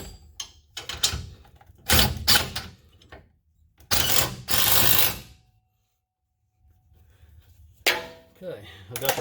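Bolt on an Air Lift 5000 overload air bag bracket tightened against the frame of a Ram 1500: bursts of ratcheting and metallic clanking close up, separated by pauses and near-silence.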